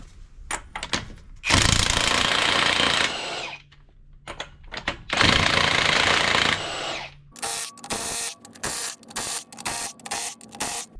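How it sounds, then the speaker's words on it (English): Power impact tool removing lug nuts from a Prevost bus wheel: two long loud buzzing bursts, then a rapid series of short sharp hammering rattles, close up with quiet pauses between. "let's get these lug nuts off, and you can see how easily it goes"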